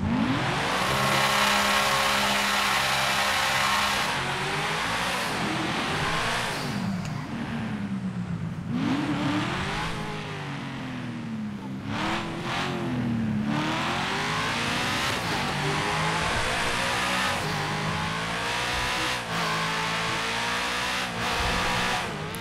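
A Camaro SS muscle car in GTA 5 revs loudly and continuously, its deep engine note rising and falling through repeated throttle bursts and gear changes, close and dominant the whole time with no talk.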